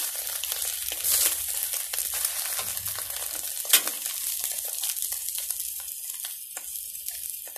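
Beaten egg for a Thai omelette fries in a hard-anodized Chinese wok, a bright close sizzle with crackles and a sharp pop partway through, fading slightly toward the end, with no talk.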